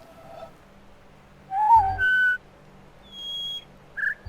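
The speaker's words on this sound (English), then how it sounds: "Sort of a really quick whistle, then goes up" Thin electronic whistles in the video game The Witness sound in short bursts, one quick tone sliding upward, followed by higher whistled notes over near silence.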